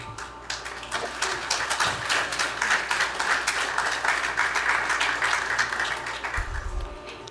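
A large audience at a college student recognition ceremony applauds steadily for about seven seconds, a dense, even wash of many hands clapping with no talk over it.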